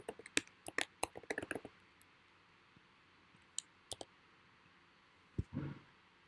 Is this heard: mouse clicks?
yes